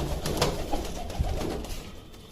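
A pigeon coos softly in repeated low murmurs at close range. The sound is steady and continuous, with little else around it.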